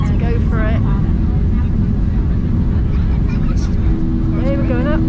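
A Ryanair airliner roars down the runway for takeoff, a loud, steady low-frequency engine rumble running throughout while cabin announcements and voices speak over it.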